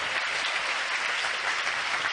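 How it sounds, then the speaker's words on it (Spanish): A church congregation claps together in praise during a worship service, a dense, steady burst of applause that fills the room for a couple of seconds, with no speech over it. "Dale un aplauso al Señor en esta hora."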